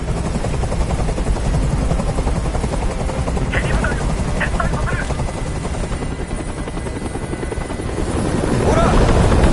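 In Detroit: Become Human, a hovering helicopter throbs steadily close by, a constant loud rotor drone that rises toward the end, while people speak over it.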